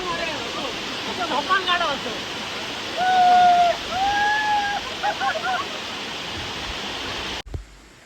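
A forest waterfall roars with a steady, broad rush while voices call out over it now and then; the rushing cuts off abruptly near the end.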